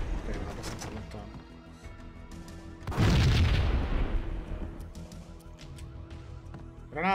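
Grenade blast in the Max Payne video game, a sudden loud boom about three seconds in that rumbles and decays over a couple of seconds amid quieter game sounds.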